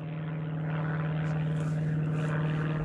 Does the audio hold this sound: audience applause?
no